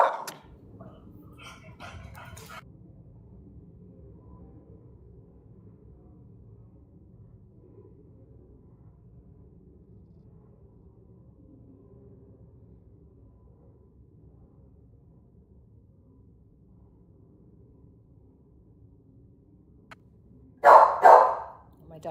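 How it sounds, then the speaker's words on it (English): A dog barks in a short, loud burst close by near the end, following a long stretch of low background hum with faint murmuring at the start. "My dog's barking again."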